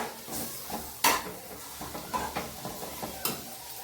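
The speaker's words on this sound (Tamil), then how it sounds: "கைவிடாமல் கிளறிக்கிட்டே இருங்க." A spatula stirs a drumstick leaf and egg stir-fry in a pan, making irregular scraping clanks against the metal over a soft, steady sizzle, close and with no talking.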